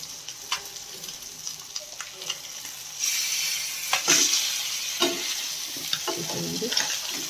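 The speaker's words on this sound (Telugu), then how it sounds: "ఇవి ఆయిల్లో వేసి 1 మినిట్ అవుతుంది. సో కొంచెం ఫ్రై అయిపోయి ఉంటాయి. సో వీటిని ఇప్పుడు తిప్పేద్దాము." Pieces of fish fry in hot oil and are turned over, with a soft sizzle at first, then a louder, steady hiss and crackle, and occasional scraping taps from a utensil close by.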